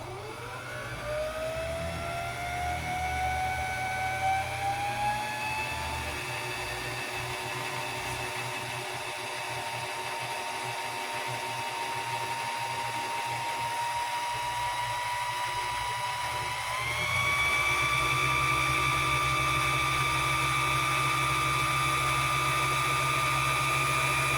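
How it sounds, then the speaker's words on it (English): A sewing machine winding a bobbin with red thread runs as a continuous whirring motor whine that rises in pitch as it speeds up, then steps up again louder and higher near the end. "I wanted to show you how I typically wind a bobbin."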